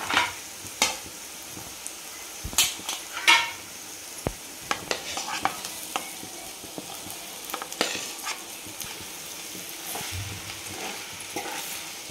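Potatoes are stirred with turmeric and green chilli in a hot pan, a spatula scraping and clinking in irregular bursts over a steady sizzle of frying, close and fairly loud with no talk.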